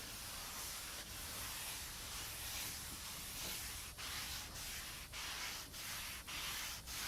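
Teak oil rubbed by rag into a butcher block workbench top: a steady, close, dry rubbing swish that runs the whole time, with brief pauses and fresh strokes at a regular pace near the end.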